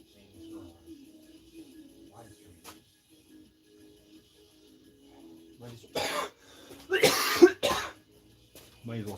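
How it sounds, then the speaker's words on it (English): Several harsh coughs break out loudly near the end, after a stretch of quiet, low murmuring and faint movement. "Might as well start off with just coughing my head off."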